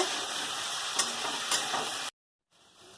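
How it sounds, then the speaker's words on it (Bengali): Potatoes frying in hot oil on a gas stove, a dense steady sizzle close by with two brief spatula knocks, then a sudden cut to silence and a faint return of frying. "তেল গরম হয়ে গেছে আলুগুলো দিয়ে দিচ্ছি আলুটাকে ভেজে নেব"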